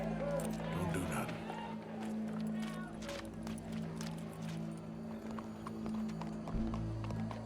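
Horse hooves clip-clop in the Red Dead Redemption video game, a steady rhythm of trotting steps under a continuous game soundtrack and background crowd murmur, with speech heard through much of it.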